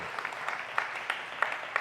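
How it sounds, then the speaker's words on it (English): Comedy club audience scattered clapping for the parents in the crowd: light, sparse claps with a few sharper ones spaced through the short stretch, moderately faint with no talk over them. "Clap for your parent."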